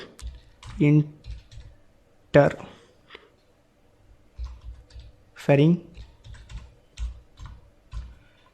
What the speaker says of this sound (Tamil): ஸோ இன்டர்ஃபெரிங் ஸ்லாக்னு நான் டைப் பண்ணிவிட்டு ஓகே கொடுத்துட்டேன்.